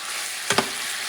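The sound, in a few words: dry hot peppers frying and sizzling in a wok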